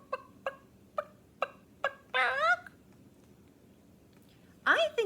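A chicken clucks in a short run of evenly spaced, fairly faint clucks, then gives two louder drawn-out squawks, with no talk over it.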